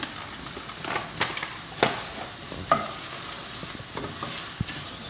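Rice tipped into a pan with squid for a squid and zucchini risotto, followed by stirring: intermittent scraping and clinking strokes over a soft sizzle, close and fairly quiet, with no talking.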